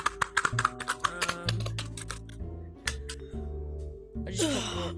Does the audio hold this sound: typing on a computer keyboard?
yes